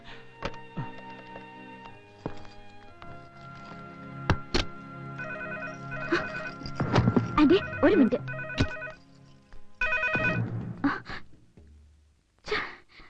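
A telephone rings in a Malayalam comedy film scene, its electronic ring arriving in a few distinct bursts through the middle and end, mixed with dialogue, gasps and background score.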